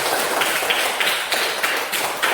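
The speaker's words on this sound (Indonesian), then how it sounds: "Tepuk tangan dulu untuk kelompok 3." Classroom applause for a student group, dense steady clapping from many hands that fills the whole stretch without a break.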